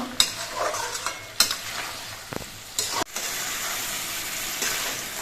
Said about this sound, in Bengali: এবার আলু দিয়ে নেড়ে চেড়ে আলু মিনিট দুই তিন কষিয়ে নেব